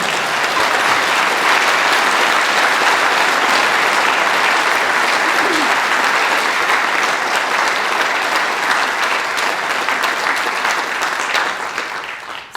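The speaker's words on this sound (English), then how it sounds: "You can clap, go ahead." Sustained audience applause filling a conference hall after a technical talk, loud and dense for about eleven seconds before tapering off at the end.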